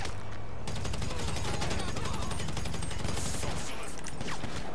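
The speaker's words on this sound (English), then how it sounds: "Hear that? He's shooting me." Gunfire in Grand Theft Auto V Online: a loud, dense, rapid volley of shots that runs without a break through the whole stretch, with little talk over it.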